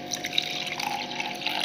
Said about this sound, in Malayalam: ഇതിൽ നമ്മളൊരു 1/4 ഗ്ലാസ് വെള്ളം ഒഴിച്ചിട്ട് കാരമലാക്കി സ്റ്റൗവിലേക്ക് ആക്കാൻ വേണ്ടി